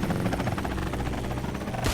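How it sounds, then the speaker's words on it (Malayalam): Loud, throbbing helicopter rotor noise from the video game Into the Dead fills the whole moment, a dense continuous whir as the helicopter flies away. "ഹെലികോപ്റ്റർ എന്നെ കൂട്ടാതെ പോയി ഗൈസ്"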